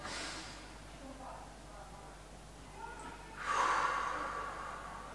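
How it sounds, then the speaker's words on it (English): A slow inhale during a yoga recovery session for swimmers, heard as faint breathing that ends in a louder, drawn-out breath close to the microphone, with no talk. "And then slowly inhale."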